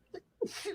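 A single short sneeze bursts out sharply after a small intake of breath, close and fairly loud, lasting under half a second.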